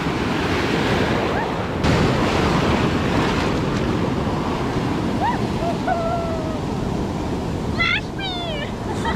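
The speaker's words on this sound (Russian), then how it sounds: "Что самое интересное, что волны, да, большие, дождь идет." Pacific Ocean surf along the Costa Rica coast in rain, a constant loud roar of breaking waves mixed with wind buffeting the microphone and a few faint bird calls.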